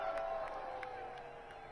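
Crowd cheering and whooping at a golf tournament's famously loud stadium hole, a broad steady roar of many voices held at an even level throughout, with scattered shouts rising above it.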